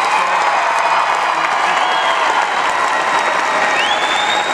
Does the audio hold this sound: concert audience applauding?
yes